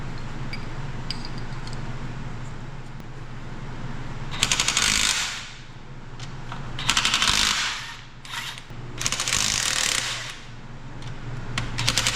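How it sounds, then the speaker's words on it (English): Metal bolts being hammered out of connecting rods on a Detroit 4-53 diesel engine teardown, heard as several loud bursts of rapid metallic impacts separated by pauses over a steady low hum. "I'm just driving the connecting rod bolts out so they don't damage the crank when I pull the crank"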